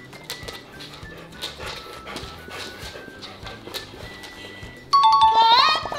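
Two dogs, an older dog and a new puppy, meeting indoors, with scattered clicks, soft whimpers and movement under talk, followed by a louder harmonic whine near the end.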